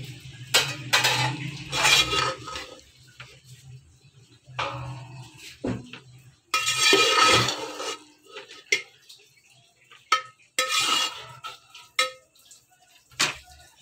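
Cooked rice being mixed in a pot alongside white chickpea curry, with repeated spoon scrapes and clinks against the metal in short bursts separated by pauses, close and fairly quiet.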